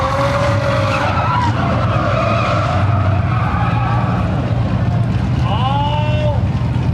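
A drift car running low tire pressures skids across the grass at a drift event, with loud, continuous tire screeches and roaring engine noise that swoop up and down throughout.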